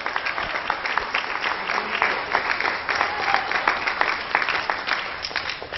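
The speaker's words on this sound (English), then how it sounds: "Give Him another hand clap of praise." Steady applause from a church congregation during a Pentecostal service, dense clapping that holds at an even level for several seconds with faint voices mixed in.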